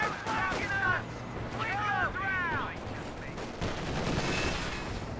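Bursts of gunfire in the Company of Heroes 2 strategy game, a few short volleys under a commentator's steady talking.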